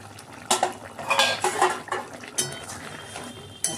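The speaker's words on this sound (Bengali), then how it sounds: "এবারে কোপ্তাগুলো দিয়ে দিলাম।" Green banana koftas are dropped into boiling curry in a pot, with clinks of a spoon against metal and soft liquid splashes and stirring, close and moderately loud, no talk.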